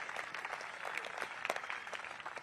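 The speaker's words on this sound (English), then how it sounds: "So give her a round of applause." An audience at a Vivek Ramaswamy political event applauds with steady, faint clapping that carries on without a break, heard from some distance.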